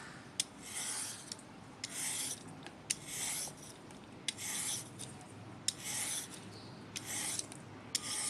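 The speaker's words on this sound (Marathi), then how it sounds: "पहिल्यांदा आपण ह्याची साल काढून घेऊया भोपळ्याची." Bottle gourd (dudhi) skin being peeled by hand for bhaji, a close, crisp rasping scrape repeated about once a second in steady strokes, with no talking.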